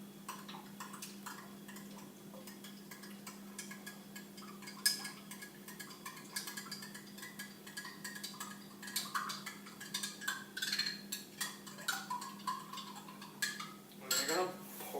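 Spoon stirring jelly and water in a container, light irregular clinks and ticks of metal against the vessel, faint and close, growing busier toward the end.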